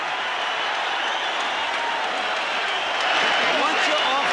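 Boxing arena crowd roaring and cheering at the end of round seven, a dense, steady wall of noise that swells louder near the end.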